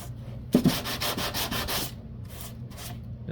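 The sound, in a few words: sanding a model surface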